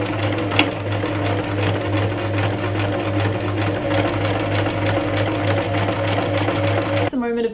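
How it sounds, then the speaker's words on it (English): A sewing machine runs in one steady continuous burst while stitching the fabric of a green top, its motor drone and rapid needle clatter loud and close, stopping abruptly near the end. "But I'm now gonna sew it, doing my best to make sure I don't get like the bulk of the fabric caught in the stitch"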